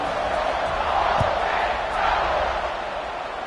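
Stadium crowd at a BYU college football game during a kickoff in the third quarter of a tied game, a loud, steady wash of cheering and roaring that swells briefly and holds throughout.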